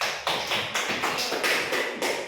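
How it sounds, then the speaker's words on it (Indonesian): Students in a classroom clap for a classmate, with dense, even applause that pulses in a quick steady rhythm throughout and no voices. "beri aplaus kepada temannya"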